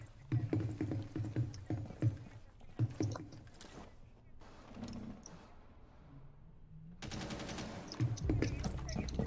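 Automatic gunfire in Rainbow Six Siege rattles in several short bursts with pauses between, the last burst loud and sustained, while players talk intermittently in between.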